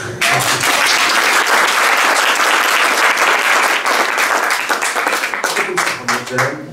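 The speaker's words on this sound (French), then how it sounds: "On applaudit bien fort." Loud, sustained audience applause fills an evening poetry reading in Algiers, dense clapping that holds steady before thinning slightly toward the end, with a few voices faintly mixed in.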